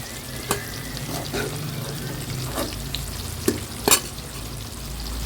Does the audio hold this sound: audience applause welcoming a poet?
no